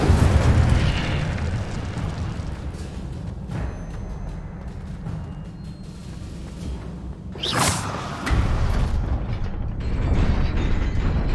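An Incendio fire spell in the video game Hogwarts Legacy erupts in a loud whooshing burst of flame over dense rumbling game ambience, with mechanical creaks around it.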